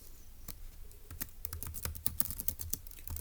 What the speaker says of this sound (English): let's go ahead and test, or type that up in our notes